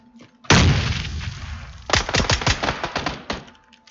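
Explosions and rapid gunfire from a video game, loud bursts of rattling shots with a heavy opening blast, then a second volley of sharp, closely spaced reports that fades out near the end.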